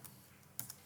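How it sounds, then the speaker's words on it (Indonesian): A few quick keystrokes on a computer keyboard, faint taps in a quiet room. "Contoh yang lain adalah Anda mau ketik di sini"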